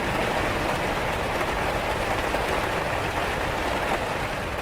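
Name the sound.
rain sound effect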